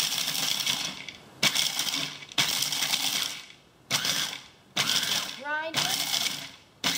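Whole almonds ground into a fine powder in a lidded electric grinder: a run of loud, harsh whirring bursts in quick succession, each about a second long, separated by brief pauses.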